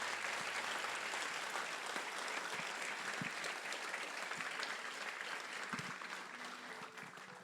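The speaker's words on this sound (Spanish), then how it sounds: "démosle un aplauso al Señor por esa palabra" A church congregation applauds after a sermon, with continuous dense clapping that stays steady and then thins slightly at the close.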